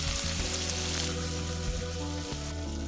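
Shrimp pot soup ingredients sautéing on high heat in a pan, a steady, loud sizzle and frying hiss running continuously with a low background hum, no voices.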